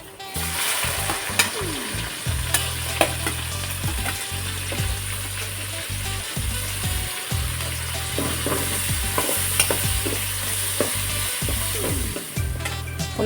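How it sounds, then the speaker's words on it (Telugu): Sliced onions sizzle and crackle steadily in hot oil in a pan, with repeated scrapes and knocks of a stirring spoon on the metal, close and continuous for the length of a banana and prawn curry preparation. "ఇప్పుడు ఇందులో ఉల్లిపాయలు వేసుకున్నారండి."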